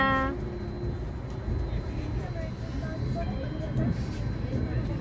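A train rumbles low and steady as it pulls away on a journey from New Delhi, a heavy continuous drone with faint rattling, and voices murmur in the background.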